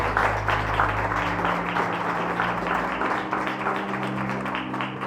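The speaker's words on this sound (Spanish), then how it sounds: "Démonos un aplauso entonces." Church congregation applauding together during a sermon, a steady wash of clapping at fairly close range with no talk over it.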